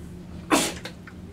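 A single sharp sneeze, close and sudden, followed by a brief exhale.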